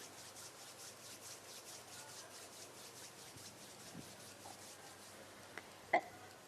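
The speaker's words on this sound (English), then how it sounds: "Gently rub the palms of your hands against each other." Palms of the hands rubbed gently against each other, a soft rhythmic swishing friction, quiet and close, with one small bump near the end and no speech.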